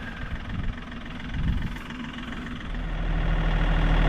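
Tractor engine with a loader bucket fitted runs steadily nearby at a low rumbling idle, growing a little louder toward the end, while clearing tilled sod for a wider gravel driveway.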